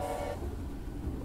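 A train horn in the Charlie the Choo-Choo video game gives a short toot that cuts off after a moment, leaving a steady low rumble of game sound.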